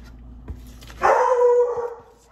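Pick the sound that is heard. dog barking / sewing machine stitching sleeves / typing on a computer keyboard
dog barking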